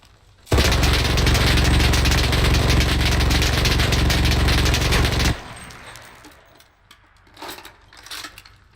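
Rapid sustained burst from a PPD-40 submachine gun in a video game, loud and continuous for about five seconds, then cutting off to quieter ambient game sounds with a few faint later noises.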